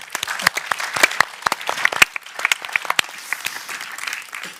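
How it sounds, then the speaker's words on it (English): A small conference audience claps for the morning's speakers at a tech user day, a loose patter of distinct individual claps rising and thinning over several seconds, with no talk. "a little round of applause for everybody who spoke"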